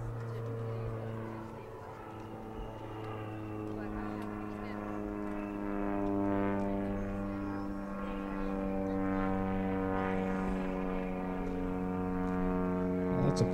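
An airplane engine drones steadily overhead, a rich, even hum that swells slightly and lingers for the whole stretch.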